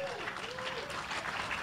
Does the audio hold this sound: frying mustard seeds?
no